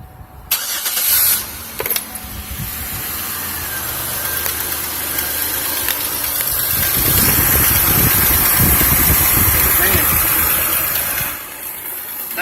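A 2002 Pontiac Aztek runs with its coolant fan wired on a bypass, a steady close engine hum and fan whoosh that swells midway, no talk.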